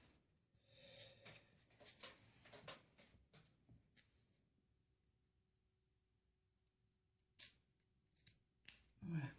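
Paper being snipped with scissors to shape a Valentine's heart, a run of crisp close cuts early on and a few more near the end, with quiet talking at moments.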